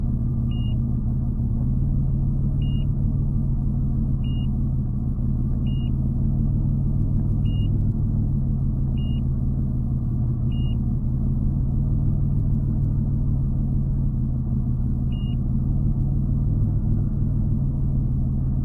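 Car engine idling in bitter cold right after a restart, its idle uneven from a dirty idle air control valve; a steady, close, low rumble drones without a break for the whole stretch, with no talking.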